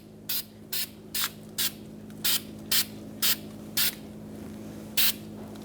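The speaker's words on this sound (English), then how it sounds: "put some anti-seize on the hub. I like the spray kind." Short bursts of anti-seize aerosol sprayed onto a car's brake hub, about ten quick hisses in an uneven rhythm, close by over a low steady hum.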